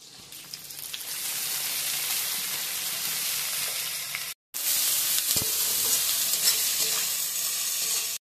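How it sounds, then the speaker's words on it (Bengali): Chopped onion dropped into hot oil in a pan, flavoured with cumin, giving a loud, steady hiss and sizzle that continues without voices, broken by a brief gap midway. "এবার আমি দিয়ে দেবো পেঁয়াজ কুচি"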